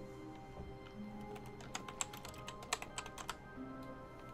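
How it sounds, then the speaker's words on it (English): Typing on a computer keyboard during a stream of a video game, a run of quick, light key clicks with a few sharper taps, close and fairly quiet over a faint steady background hum. "Type face punch on your keyboard."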